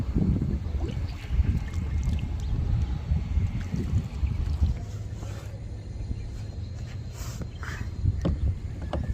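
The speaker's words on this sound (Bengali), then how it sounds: "এখন নৌকা চড়ার পালা। আমরা নৌকা চড়তেছি।" A boat ride on water, a steady low rumble of hull and water with wind buffeting the microphone throughout, constant and fairly close.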